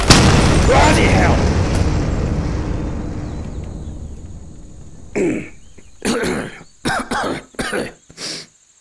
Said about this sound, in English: I may have put some explosives into the tree and then forgot about it.